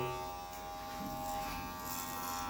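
An Aprilla 5050 electric hair clipper runs close by with a steady, even motor buzz and slight fluctuations throughout, without talking.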